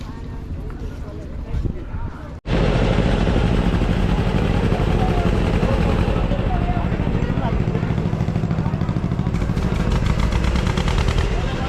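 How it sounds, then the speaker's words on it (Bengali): A passenger launch on the river pulls into the ghat near Mayapur, its engine droning loud and steady after a sudden surge, under continuous talk. "এই হচ্ছে আমাদের লঞ্চ লঞ্চ এখন ঢুকছে"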